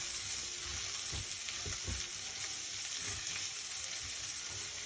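Meat and mushrooms sizzle steadily in a pan while being stirred, with a constant hiss of frying and a few soft stirring knocks, no voices.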